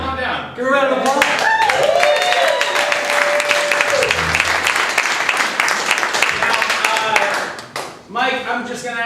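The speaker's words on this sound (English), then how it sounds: "Give a round of applause." An improv comedy show audience claps and cheers in a sustained round of applause, loud and busy, while a voice talks and calls out over the start and end of the clapping.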